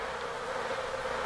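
Scout bees buzz as they return to the hive, a steady, dense hum of many insects swarming close by, continuous and even with no voices.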